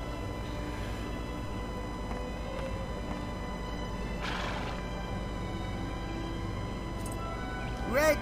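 A horse neighs and whinnies in the PS2 video game Dragon Quest VIII, faint and steady over a continuous game soundscape, with a louder sharp call near the end.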